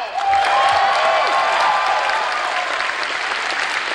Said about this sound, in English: Now give a round of applause if you're here right now!